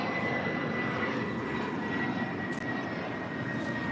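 Jet engine roar from a China Cargo Boeing 777 at LAX, a steady broadband rumble with a faint high whine holding throughout, moderately distant and continuous with no talk.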